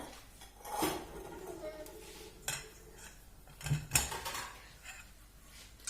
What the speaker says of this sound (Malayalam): അതിനുശേഷം ഇതൊന്ന് മിക്സ് ചെയ്തെടുക്കാൻ പോവാണ്.